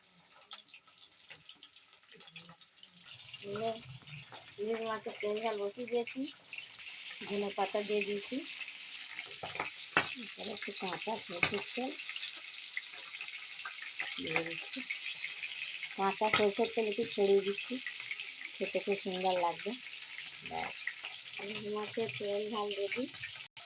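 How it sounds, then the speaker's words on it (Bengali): Hilsa fish pieces fry in hot oil, a continuous soft sizzle running steadily underneath as someone talks over it in a home kitchen. "এরপরে একে একে মাছগুলো সব দিয়ে দিচ্ছি সব পর পর পর সাজিয়ে"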